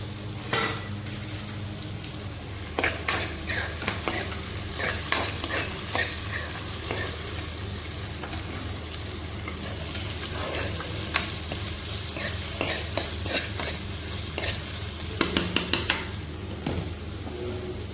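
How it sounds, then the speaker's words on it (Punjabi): Vegetables sizzle in a frying pan during tempering, with frequent spatula scrapes and knocks against the pan over a constant frying hiss, near and fairly loud. "ਸਬਜ਼ੀ ਨੂੰ ਤੜਕਾ ਲਗਾ ਦਿੰਦੇ ਤੇ"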